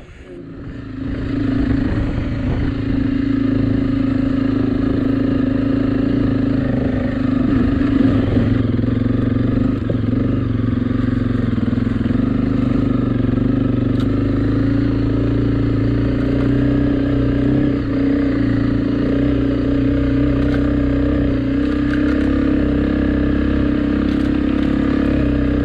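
A heavy 160 kg motorcycle being ridden on the open road, its steady engine drone loud and continuous throughout with wind rumble, no talking.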